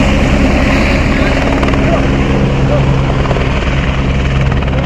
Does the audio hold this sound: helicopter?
yes